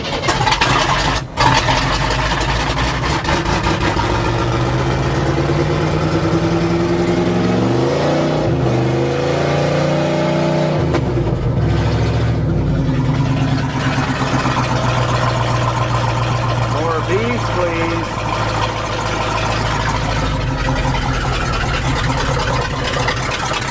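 GMC 400 truck engine after fuel-system repriming, starting and running: a loud, continuous mid-pitched engine roar with several revs rising and falling in the middle, then settling into a steady run close by, with no talking.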